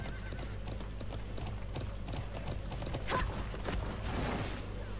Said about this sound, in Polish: Galopujący koń ukończony.